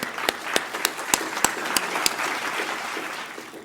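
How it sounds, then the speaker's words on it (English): Audience applause at a startup ecosystem event, a crowd clapping steadily with a few sharp, louder claps standing out early before settling into a dense, even patter, moderately loud and with no talk. "Please give a big round of applause."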